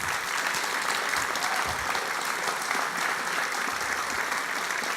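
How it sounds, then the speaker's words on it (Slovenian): A large audience gives sustained, warm applause at the national opening ceremony of Lifelong Learning Week 2019, a steady, dense wash of clapping from the crowd. "velik topel aplavz."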